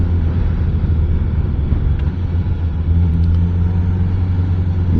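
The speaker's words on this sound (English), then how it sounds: "I'm downshifting, very nice." Engine of a 2025 Suzuki motorcycle, either the Hayabusa, GSX-8R or GSX-S1000GT, downshifting through a quick shifter, heard as a steady loud low rumble under heavy wind noise, with only subtle shifts in tone.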